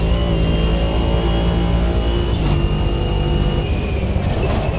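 Turbocharged Mercedes car engine pulling hard under acceleration, a loud, steady drone with a thin high whine riding above it, close and continuous with no talking.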